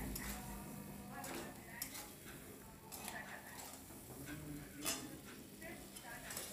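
Potatoes, peas and salt are stirred together in a pan with a spoon, giving soft, repeated scraping and faint sizzling, quiet and close.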